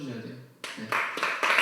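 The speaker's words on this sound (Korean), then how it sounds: "오늘 우리님한테 박수 한번 쳐주셔야 돼요" A church congregation at a young adults' service breaks into clapping after a short stretch of speech, the claps swelling from quiet into loud, full applause.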